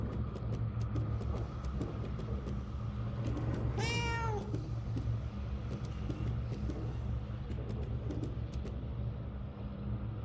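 A cat in Murdered: Soul Suspect gives a single rising-and-falling meow midway, heard over a steady low engine-like hum with faint ticking.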